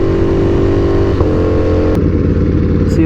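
A Ducati Panigale V4R fitted with an SC Project exhaust screams on a dyno, over-revving in a loud, sustained high-rpm howl with brief stutters and mechanical clatter.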